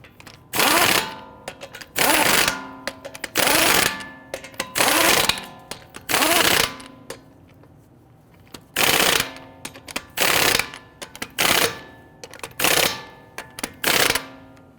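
On a 2011-2023 Dodge Charger, a ratchet snugs down the front wheel's lug nuts in repeated loud, rapid clicking bursts of about a second each, separated by short pauses, with no talking.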